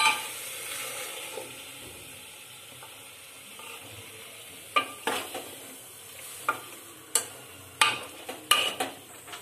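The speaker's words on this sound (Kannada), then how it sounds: "ಮಸಾಲ ಹಾಕಿ ಒಂದು 10 ನಿಮಿಷ ಅದರಲ್ಲೇ ಚೆನ್ನಾಗಿ ಹುರ್ಕೋಬೇಕು" Ground masala fries in a pan for chicken saaru with a soft, continuous sizzle. Sharp intermittent clinks and scrapes of a spoon against the pan come through, several close together near the end.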